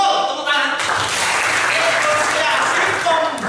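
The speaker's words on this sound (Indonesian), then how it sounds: "Betul, tepuk tangan." Students clap in a classroom during a lesson, a short burst of moderately loud, dense applause with voices mixed in, beginning just after a teacher speaks.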